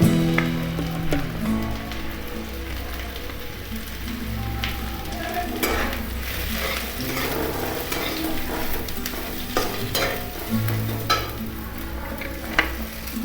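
Carrots stir-fried with onion in hot oil for homemade chicken chow mein, giving a steady sizzle with scraping stirs and clatter throughout, close and fairly loud, with no talking.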